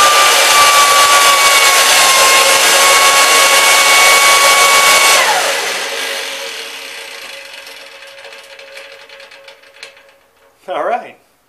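A vintage electric lawn edger motor spins on a bench, a loud steady whine with broadband roar that winds down over several seconds to a faint hum, followed by a brief rattling clunk.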